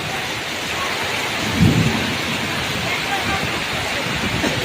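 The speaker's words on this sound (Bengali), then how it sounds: "কালবৈশাখী ঝড় এটা।" A Kalbaishakhi thunderstorm strikes during a fishing outing: heavy rain pours steadily and loudly, and a single deep thunder rumble swells briefly partway through the downpour.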